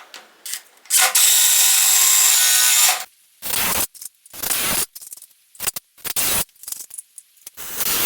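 Self-drilling lag screws driven into wood during bar framing with a power driver, several loud whirring bursts of varying length separated by short pauses.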